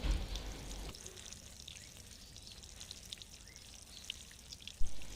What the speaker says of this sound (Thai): ก่อนที่เราจะปลูกต้นหอม ให้เราลดน้ำให้ดินชุ่มก่อน